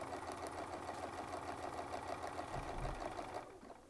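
A sewing machine stitches a quilting design guided by a Westalee Spin-E-Fex 11 ruler, giving a steady, close mechanical whir with a rapid needle rhythm that runs throughout and dips slightly at the very end.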